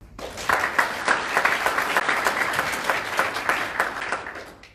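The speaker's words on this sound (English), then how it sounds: "Round of applause for Karl." Audience applause at a talk on the psychology of branding, steady dense clapping from a room of people lasting the whole stretch at an even level.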